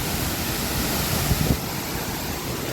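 The Syndicate Waterfall in Dominica gives a continuous, dense rush of flowing water, steady and fairly loud, with a faint thump partway through.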